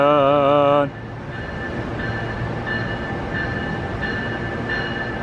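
Train pulling into Union Station, Los Angeles, opening with a loud tonal horn, then a steady rumble of rolling cars and faint wheel squeals, close by.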